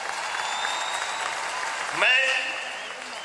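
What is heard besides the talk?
audience applause welcoming Olympic athletes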